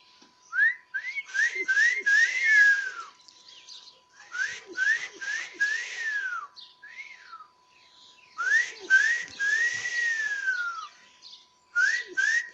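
Several people whistle outdoors in repeated short rising phrases and longer sweeping notes, grouped in bursts with brief quiet gaps between them.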